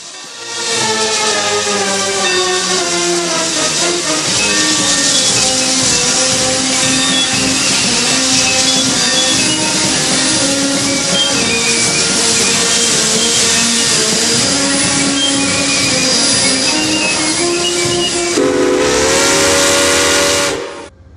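A loud, sustained steam locomotive whistle blares for a long stretch with steady hissing beneath, then shifts pitch briefly before cutting off, as the train arrives at the Santa Fe Depot in San Bernardino, California, during a Railroad Days festival.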